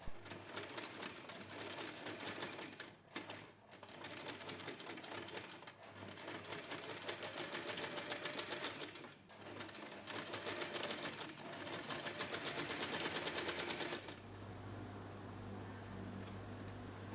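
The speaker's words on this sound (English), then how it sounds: "You can simply use the guideline on your sewing machine." A sewing machine runs in fast, steady mechanical bursts with short pauses between runs, close up, then stops into a quiet hum.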